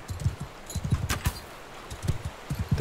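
Horse hooves in the Mount & Blade II: Bannerlord video game, a quick run of clip-clop footfalls in uneven bursts, fairly close, with no speech.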